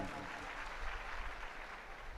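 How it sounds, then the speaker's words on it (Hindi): An audience at a spiritual talk on education and religion claps in thanks, a dense, even patter of applause heard at moderate volume from start to finish. "ताली बजाकर धन्यवाद दें"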